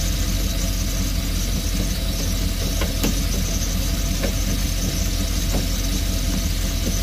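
An RV engine idles steadily after a starter repair, warming up with a constant loud rumble and hiss, a faint squeal running through it, and a few small knocks and clicks.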